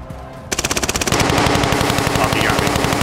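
Rapid automatic gunfire in a video game, a burst of evenly spaced loud shots followed by dense continuous firing and explosions, close and intense.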